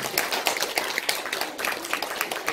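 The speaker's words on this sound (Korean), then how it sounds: "우리 주일학교 학생들을 위해서 박수 한번 해주시면 감사합니다." A church congregation claps for its Sunday school students during a Sunday service, a short burst of dense, fairly close applause at an even level throughout.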